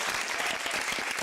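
A crowd claps in applause, a dense, even patter of many hands filling the whole brief moment without any talk over it.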